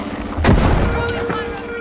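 A frag grenade detonates in the video game The Finals: one heavy, booming blast hits early, then rumbles and fades under continuing game ambience.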